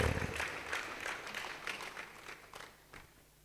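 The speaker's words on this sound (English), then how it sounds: "Can that applause be sustained for His Excellency for those very wonderful words on marble?" Steady audience applause, a dense wash of many hands clapping that fades slightly toward the end.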